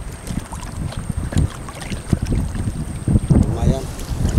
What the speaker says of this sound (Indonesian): Dan angin pun mulai bertiup kencang.